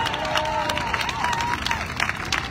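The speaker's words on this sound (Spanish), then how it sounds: "¿Cuánto le damos un fuerte aplauso a Dios?" A crowd applauds at an outdoor Christian event in Engativá, a steady wash of clapping and cheering voices with general crowd babble running under it.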